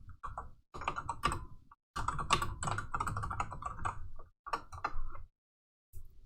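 Rapid clacking keystrokes on a computer keyboard, typed in uneven bursts with short pauses between runs, close and clear with no talking.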